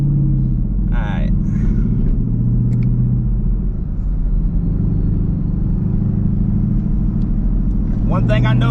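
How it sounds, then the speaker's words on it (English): A car engine with a ProCharger supercharger tune rumbles loudly and steadily up close, a deep continuous drone, while a person talks over it. "tell me my car don't sound great, man"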